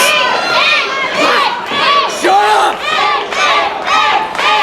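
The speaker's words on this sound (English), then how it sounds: "And this crowd trying to will Inc. back into this thing" A wrestling crowd shouts and cheers in loud, rising waves of many voices, swelling repeatedly as if urging a fallen wrestler back to his feet.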